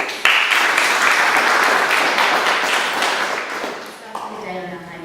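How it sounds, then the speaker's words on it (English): A conference audience applauds itself at the start of a day's session: a burst of full, sustained clapping that tapers off after about four seconds, with a voice speaking over the tail. "Give yourselves a round of applause."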